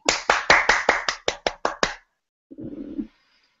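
Brief clapping from a small group, about ten quick sharp claps in an even rhythm, close and fairly loud, tapering off, followed by a short murmur of voices.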